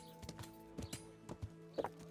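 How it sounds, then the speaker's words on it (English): Horse hooves clip-clop at a steady walking pace in the medieval game Kingdom Come: Deliverance, several distinct close hoof strikes over a constant tonal background hum. "I'll just park my horse here"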